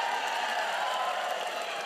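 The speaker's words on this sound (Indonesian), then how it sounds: "Ini tepuk tangan apa? Ini tepuk tangan." Congregation applause in a church service, a dense, even wash of clapping from many people that holds steady throughout at moderate loudness, with no clear talk over it.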